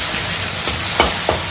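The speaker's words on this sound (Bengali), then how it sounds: "রসুন পেঁয়াজটা ভালো করে এখন ভেজে নিতে হবে" Chopped garlic and onion frying in a pan, a steady bright sizzle with a few louder crackling bursts from stirring, close and continuous with no talking.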